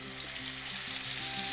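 A steak sizzles and fries steadily in a hot pan, with a dense, continuous hiss that holds at a fairly loud level throughout, and no voices.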